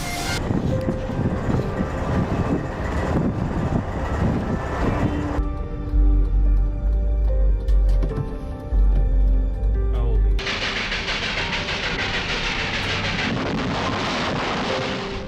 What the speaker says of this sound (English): The video shows the moment a Brideline train collides with a car in North Miami Beach.